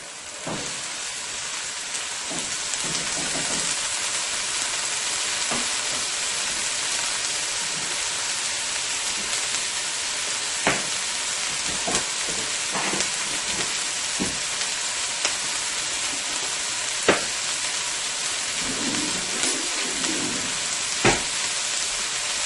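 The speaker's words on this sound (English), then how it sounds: "to my sauteed garlic, onion, and chili pepper, I am going to go ahead and add my shrimp" Shrimp sautéing in a pan with garlic, onion and chili pepper for Guyanese-style fried squash, a continuous close sizzle broken now and then by soft stirring clicks.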